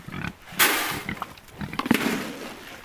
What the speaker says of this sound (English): about these pigs